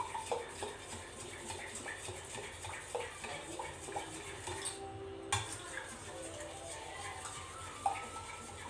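Lassi flavoured with cardamom powder being whisked in a metal pot, with scattered clinks and scraping of utensil against metal under soft background music and a steady low hum; no talking.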